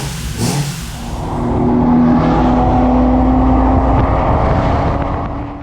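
A Toyota GX81 with a 2JZ engine revs up loudly close by, climbing to a sustained high drone, holding, then easing off, with no talk.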